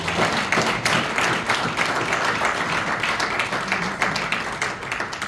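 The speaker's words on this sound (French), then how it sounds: "Applaudissez-moi." Full audience applause at the MAGRIC 2024 gala evening, a thick continuous patter of many hands clapping with crisp individual claps popping out, holding steady throughout.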